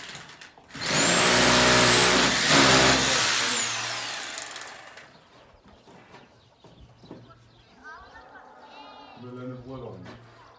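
A loud, drawn-out sheep bleat up close, followed by quieter bleats later amid low background noise.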